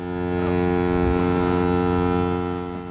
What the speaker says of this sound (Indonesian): Dan tiba-tiba terdengar suara klakson dari satu kapal.